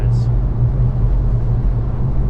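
Steady wind roar fills the cabin of a Citroen e-C3 electric car moving on a windy day, a constant broad hiss and low rumble with little tyre noise, while a voice talks over it.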